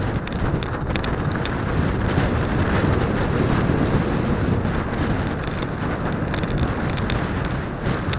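Strong wind buffeting a microphone outdoors in snow, a dense continuous roar with gusty rustling throughout, close and loud, with no talk.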